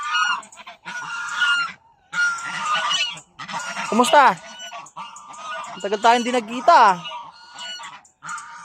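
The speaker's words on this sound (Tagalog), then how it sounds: "Yan ang kaibigan nating gansa" Geese on a rural Batangas farm honking loudly and close, in repeated harsh bursts and a couple of rising squawking calls, while a person speaks briefly over them.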